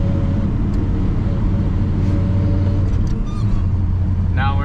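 Old Chevy squarebody truck in its highest gear while towing, a steady droning engine and road rumble throughout, with people talking over it inside the cab.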